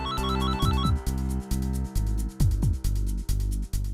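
A phone ringtone plays a repeating electronic melody in short bursts with brief gaps, fairly loud and close, with no talking.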